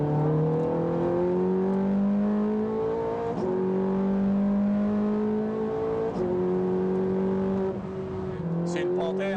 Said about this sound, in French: Le coup de gaz qui rétrograde.